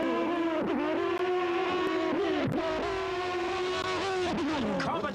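Drag-racing motorcycles on a dial-your-own handicap strip, including a nitro bike, scream loudly with a strong tonal engine howl that dips and climbs again with each quick gear change.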